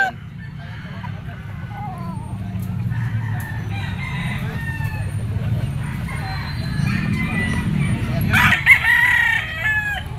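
A white-legged white Kelso gamefowl rooster crows at a pet market, its call rising amid steady crowd noise and background chatter, with other fowl sounds mixed in.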